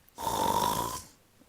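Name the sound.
voice imitating a wolf snoring loudly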